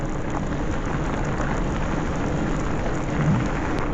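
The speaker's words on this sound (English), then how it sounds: "it's raining now, steadily raining more and more" Steady, loud rain falls without a break, a dense even hiss close by on a wet day in the Forest of Dean, with no voices.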